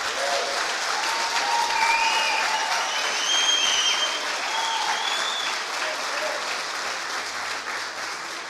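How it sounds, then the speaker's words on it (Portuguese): A church congregation claps loudly and steadily during a celebration service, with thick continuous applause and a few scattered cheers and whoops rising above it. "Aplauda Jesus bem forte"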